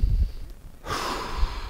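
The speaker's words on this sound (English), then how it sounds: "Take a breath in plank" A person holds a yoga plank pose and breathes: one long audible exhale, close and airy, after a brief pause, with no talking.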